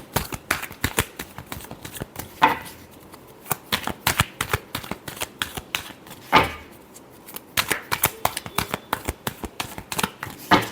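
Tarot cards are shuffled by hand up close, a continuous run of quick papery riffles and snaps with a couple of louder bursts, and no talking.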